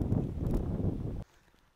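Strong wind buffets the microphone outdoors on a field during a metal-detecting hunt with a Nokta Makro Legend detector, producing a loud, low, rumbling roar that cuts off abruptly partway through, leaving faint background noise.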